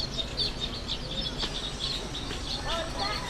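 Birds chirp and tweet in repeated bright calls across an early-morning village soundscape, moderately close, with a steady low background rumble and some voices mixed in.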